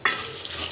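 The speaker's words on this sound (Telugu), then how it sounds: "అంతా బాగా కలిపేసుకోవాలి." A brief scrape and rustle of a spoon stirring spiced flattened rice with seasoning, chilli powder and salt in a pan, a soft close sizzle-like hiss.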